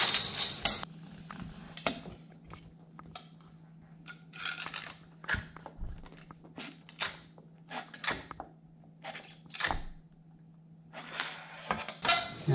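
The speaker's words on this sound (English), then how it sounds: "slide a putty knife up underneath here to separate the sealing strip from the header bar" Scattered scraping and clicking of a metal putty knife worked under the sealing strip on a Pella in-window blind's header bar, coming in short separate strokes against a faint steady hum.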